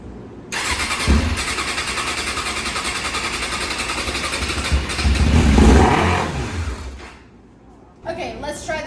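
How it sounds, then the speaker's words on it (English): A carbureted motorcycle with dirty carbs starts up after a battery swap, runs rough and loud for several seconds, then dies; a brief cranking attempt follows near the end. "we're going to try to start this bike and see how bad the carbs are"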